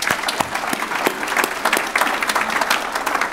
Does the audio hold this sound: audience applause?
yes